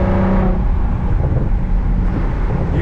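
A tuned Infiniti G37 sedan cruising along backroads on a morning drive, its engine giving a steady low drone with road noise from inside the car, loud and continuous, without speech.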